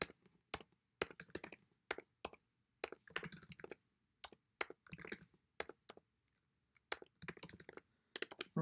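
Keystrokes on a computer keyboard while PHP code for an array is written, coming in quick irregular bursts of close, crisp clicks separated by short pauses, with no voices.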